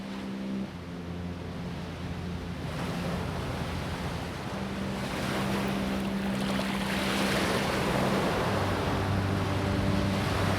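Ocean surf pounding against a vast ring of coral reef, a steady, loud wash of breaking waves and wind that swells slightly louder toward the end, with a low droning tone underneath and no voices.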